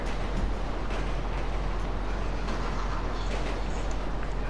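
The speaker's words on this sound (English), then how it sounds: "Man, you can't stop the train" A train in Grand Theft Auto V rumbles past as a steady, dense low roar with rolling rail noise, loud and continuous.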